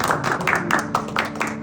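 Worshippers in a church congregation clap together, a brief burst of fairly loud, rhythmic hand claps with a bit of background murmur underneath.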